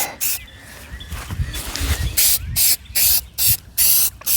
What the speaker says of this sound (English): just like spray painting, put on a couple of light coats as opposed to a heavy coat